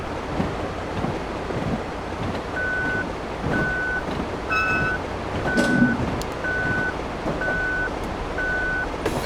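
Inside a Virginia Railway Express train cab, an overspeed warning alarm sounds a steady series of evenly spaced high electronic beeps over loud rumbling wind and rail noise, repeating about once every second.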